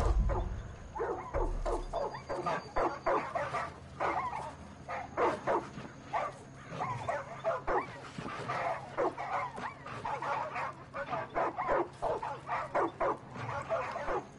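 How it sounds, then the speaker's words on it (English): Dogs bark, yip and whimper in the Far Cry 5 video game, a run of repeated calls spread across the whole stretch, fairly loud, with someone talking at moments over them. "oh, dogs are going crazy, man."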